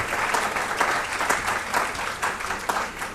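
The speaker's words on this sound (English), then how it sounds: "A really big round of applause to" Sustained audience applause following a panel discussion at an event about Mumbai, a dense steady wash of many hands clapping throughout, fairly loud and continuous with no talk.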